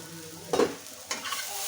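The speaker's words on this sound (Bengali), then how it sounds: "ঢাকনাটা তুলে আবারও নেড়ে নেব।" Cauliflower sizzles steadily in a hot pan, with two brief scraping stirs breaking through the frying hiss.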